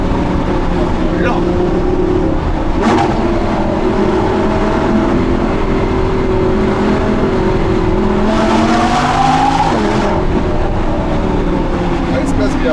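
An Audi R8 V10 Plus with Capristo exhaust is driven hard, its engine droning loudly throughout with rising pitch sweeps and brief tire squeal, close and continuous with no pauses.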